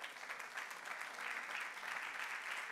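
A church congregation applauds loudly for God during a service, a dense steady wash of many hands clapping that holds evenly throughout without letting up.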